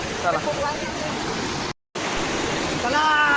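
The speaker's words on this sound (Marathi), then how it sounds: "मित्रांनो बघू शकता इकडे सुभेदार धबधबा" Subhedar waterfall plunging about 150 feet, a steady broadband roar of falling water close by, with a voice talking over it and a brief dropout in the middle.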